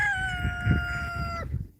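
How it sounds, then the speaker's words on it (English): Baby chickens and turkeys coming back in from their exercise pen on a homestead, a steady, clear high peeping call held for over a second over low background rumble before cutting off. "The bucket is actually full of chicken and turkey babies coming in from their exercise pen."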